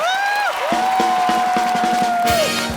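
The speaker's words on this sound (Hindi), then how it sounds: "एक बार जोरदार तालियां ग्रेट ग्रैंड मस्ती की पूरी स्टार कास्ट और डायरेक्टर साहब मिस्टर इंद्र कुमार जी के लिए" Studio audience of a Hindi comedy talk show cheers and whoops loudly, with rising whistle-like yells over a steady crowd roar that holds throughout.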